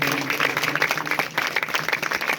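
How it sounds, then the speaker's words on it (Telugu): An audience at a church gathering clapping in welcome, steady dense applause from many hands throughout, fairly loud and close, with no break. "చప్పట్లు కొడదాం."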